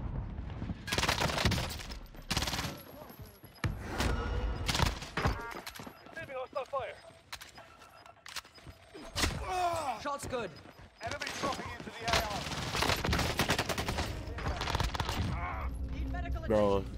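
MAC-10 submachine gun fire in a Rebirth Island video-game match: rapid automatic bursts crackle repeatedly over dense game effects and explosions, with players talking throughout.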